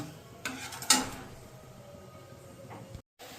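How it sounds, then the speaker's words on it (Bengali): Coconut curry with pomfret being stirred gently in a pan, with a couple of soft scraping strokes and a light clink near the start over a faint simmer, then quiet. "এবার একটু হালকা করে মিশিয়ে দিয়ে আমি গ্যাসটাকে বাড়িয়ে দিচ্ছি 3-4 মিনিটের জন্য"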